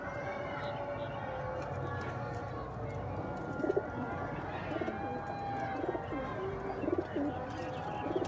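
Soft pigeon coos from various pigeon breeds repeat over a busy background of other birds chirping and general outdoor noise.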